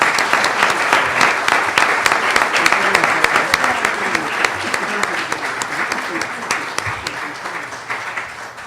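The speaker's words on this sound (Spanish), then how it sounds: "Pedimos un aplauso para la licenciada María Concepción Hinojosa Velasco." Dense, sustained applause from a conference audience greets an invited guest, a continuous crackle of many hands clapping close and loud for several seconds.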